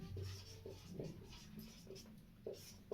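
A teacher writes on a board during a lesson, with soft scratchy strokes and short taps arriving in an irregular rhythm. The sound is faint and close, with a quiet room murmur underneath.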